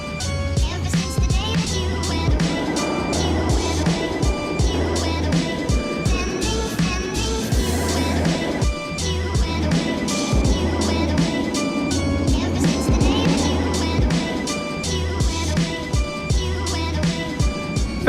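A steady roar of wind and rumbling track runs through a long ride on the Medusa roller coaster at Six Flags Great Adventure, with rattling and clatter from the train but no clear screams.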